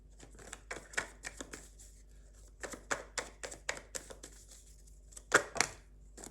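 Tarot cards are shuffled by hand at close range, giving quiet bursts of riffling and tapping in an uneven rhythm, with soft pauses between shuffles.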